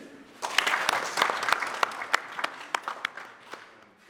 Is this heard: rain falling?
no